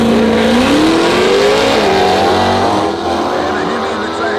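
Jeep Trackhawk with a supercharged HEMI V8 launching hard down a drag strip, its loud engine note climbing steadily as it pulls away, with a voice talking over the roar.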